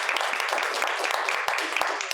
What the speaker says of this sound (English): let's give a round of applause for Jayla